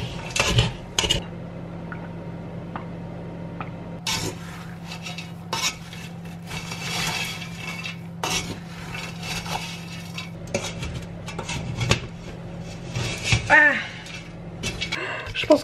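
A heavy batch of homemade praline gets stirred in a pan, repeated scraping and clinking of utensil against metal in an irregular rhythm, close and moderate in volume, with a low steady hum beneath.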